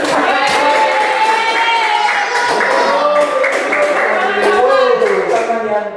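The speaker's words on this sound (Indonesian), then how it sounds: "Tepuk tangan buat Salman" Students in a classroom clapping and cheering for a classmate, loud continuous shouting voices and cheers layered over scattered claps, close and lively throughout.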